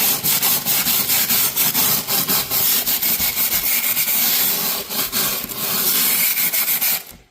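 Wire brush scrubbing a rusty windshield hinge on a Jeep YJ, loud, close and continuous rasping strokes in a quick back-and-forth rhythm that carries on for several seconds before stopping abruptly, with no voices.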